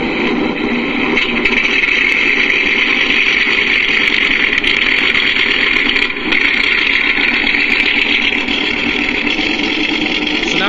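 MrRCSound V4 engine sound module playing a steady idling engine through a small speaker, a continuous buzzy drone at even level, heard alone.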